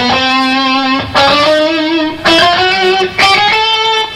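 Electric guitar runs a chromatic scale from E, three notes per string, with mild distortion. Steady stepwise notes climb in pitch, grouped in three rising bursts, loud and close with no talking.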